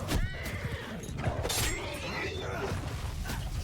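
A horse whinnies amid a Mount and Blade 2 Bannerlord battle skirmish with horse archers, the neigh loud and close over constant clatter of hooves, creaking and combat noise, with a voice talking at moments.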